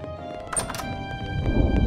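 Cartoon sky horses clip-clop as they trot off toward their stable, a few light hoof knocks and soft thuds over a low rumbling bed, close and brief with no talking.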